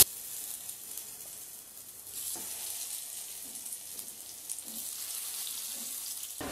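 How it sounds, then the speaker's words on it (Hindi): Cauliflower snack pieces sizzle as they are laid on a hot oiled tawa, a steady fine hiss with soft clicks and small bursts as pieces go down, moderately quiet and without talk. "तवे पर दो चम्मच तेल डाल देंगे तेल को गर्म कर लेंगे तो तेल भी गर्म होने लगा है अब हमने जो पीसेस कट करके रखे थे उन्हें हम तवे पर रखेंगे"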